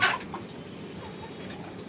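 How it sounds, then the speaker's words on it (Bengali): Ducks and chickens kept on a small rooftop garden farm cluck faintly in the background, with a brief louder squawk at the start over a low ambient hum. "আমার ছোট্ট ছাদ বাগানের কয়েকটি হাঁস মুরগির খামার আপনারা দেখতেছেন।"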